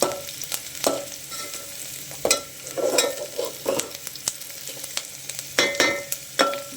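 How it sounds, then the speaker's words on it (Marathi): Onion sautéing in a pan for a Marathi-style pulao, with a soft continuous sizzle punctuated by sharp, regular scrapes and taps of a spatula against the pan, close and clear with no talking. "कांदा गुलाबी होतोवर परतायचा।"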